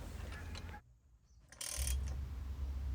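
A ratchet tightens the crank bolts on a 1985 Raleigh Team road bike being built up for cyclocross: a brief close burst of mechanical ratcheting clicks, a quiet gap, then a louder whirring rattle.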